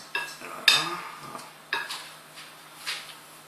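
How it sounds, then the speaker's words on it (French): Melon pan dough is mixed with milk in a bowl, giving a few sharp, close utensil clinks and scrapes against the bowl, spaced out and unevenly timed, with no talking. "Après tu rajoutes le reste du lait et tu mélanges."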